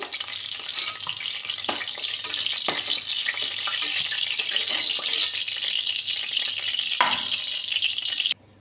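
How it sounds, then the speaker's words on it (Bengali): Pointed gourd (potol) frying in hot oil for a hilsa fish curry gives off a steady, loud sizzle and crackle throughout, with a few sharper spatters and stirring knocks, and no talking. "তার পটলটা ভালো করে ভেজে নিয়ে বের করে নেব"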